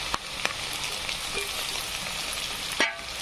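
Potatoes and bell peppers frying in hot oil for masala pulao make a steady, close sizzle, broken by a few sharp clicks and a louder utensil scrape near the end.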